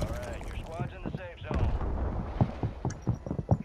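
Several sharp gunshot bursts crack out amid gameplay, scattered irregularly in the second half beneath overlapping voices talking.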